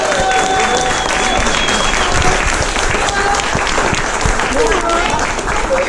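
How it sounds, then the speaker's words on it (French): Audience at the Grand Défi 2021 applauds the youth team, a loud, dense, sustained burst of clapping with crowd noise and some voices mixed in, steady throughout. "j'aimerais qu'on applaudisse bien fort toute l'équipe de jeunes"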